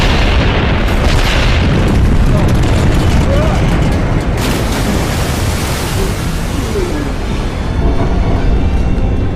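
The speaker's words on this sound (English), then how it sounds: "Execute early detonation!" A missile detonating early in an American action film produces a massive, continuous roaring blast that fills the whole clip, loud and dense like a sustained wall of rumbling explosion noise.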